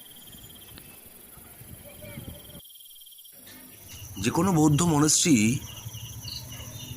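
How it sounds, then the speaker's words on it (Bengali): Continuous insect chirring near a Buddhist monastery in hilly Gangtok, steady and moderately close, with wind and someone speaking over it for a few seconds. "এখানটা কিন্তু অনবরত ঝিঝি পোকার ডাক শুনতে পাচ্ছি"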